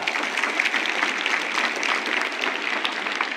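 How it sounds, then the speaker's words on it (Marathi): Steady, dense applause from a crowd at a school farewell ceremony for 10th and 12th grade students, many hands clapping continuously at an even level throughout. "छान टाळ्या वाजा"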